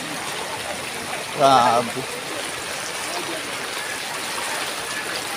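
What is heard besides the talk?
rushing floodwater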